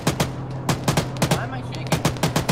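A .50 cal machine gun firing in the military video game Arma 3, sharp heavy reports in short rhythmic bursts, fairly close and loud, with a voice talking over part of it.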